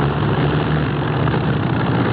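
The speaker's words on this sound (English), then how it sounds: "I don't like the sound of that engine." Aircraft engine drone in a radio drama, running rough and sounding wrong: a steady, loud, close propeller-plane roar with no voices.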